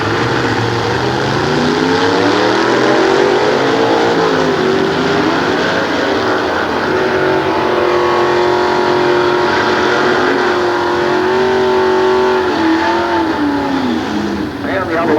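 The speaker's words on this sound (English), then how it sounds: "He drives his 350 cubic inch Chevrolet powered 1940 Willys Coupe." A 350 cubic inch Chevrolet-powered 1940 Willys Coupe drag races at a nostalgia drag event, its engine roaring loudly with rising and falling revs throughout, while an announcer talks over it.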